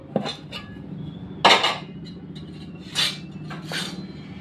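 A bowl set out in a home kitchen for ragi dosa batter: a few sharp metallic clinks and knocks of cookware, spaced apart, close and fairly clear in a quiet room.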